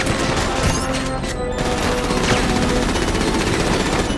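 Rapid gunfire in GTA 5 during a street fight with a tank nearby, loud sustained bursts of automatic shots overlapping with booms, no talk.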